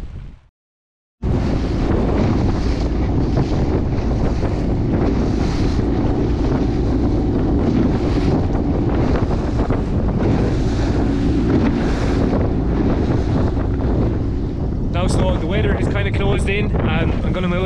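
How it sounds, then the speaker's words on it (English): Loud, constant wind buffeting a microphone with a dense rushing roar, sharp rain patters and splashes near the end, after a brief quiet start, near a harbour. "the wind and rain has started"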